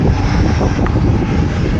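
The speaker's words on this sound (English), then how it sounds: "Inducer motor." A Carrier rooftop HVAC unit from around 1998 runs its inducer motor, giving a steady, loud whirring roar that stays even throughout with no voices.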